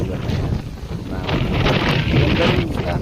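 Strong wind buffets the microphone in a steady, loud rumble throughout, on a windy scenic coastal stop with rock formations and sea during a northern Luzon road trip.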